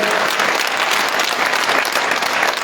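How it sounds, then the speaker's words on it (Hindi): Audience at a BJP political rally applauding to welcome a guest, loud dense continuous clapping from a crowd, close and sustained without talk. "पुनः एक बार जोरदार तालियों से ठाकुर जयराम जी का स्वागत।"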